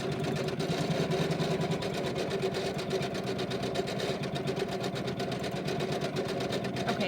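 An embroidery sewing machine re-stitching a snowman quilt block, running as a steady, fast mechanical chatter of rapid needle strokes with a constant motor hum, close and unbroken throughout.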